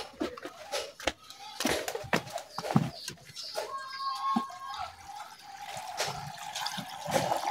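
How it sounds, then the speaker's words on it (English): Water splashes and trickles unevenly into a blender on a poultry farm, with clunks and handling noises, and birds cooing faintly in the background. "Let me first put water."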